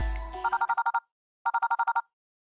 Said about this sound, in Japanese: 監督生の電話が鳴ってるのか